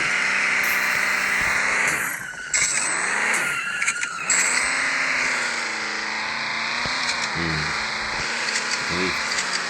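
Toyota Supra engine in a drifting video game, a steady loud drone with rising and falling revs and tyre-like squeal bursts across the whole stretch, with talk over it.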